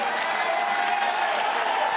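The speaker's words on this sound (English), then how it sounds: "gets a nice round of applause from the folks here at the Bosch in Chapel Hill" Fans at a college baseball game between Georgia Tech and North Carolina in Chapel Hill applaud steadily, a continuous wash of clapping and crowd noise from the stands.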